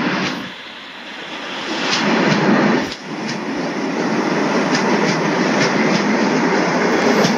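In a 3D train game, an express hauled by a WAP-4 electric locomotive with a guard van at the rear runs steadily, a loud continuous rumble and roar with faint rhythmic clicks of the wheels, brief dip midway.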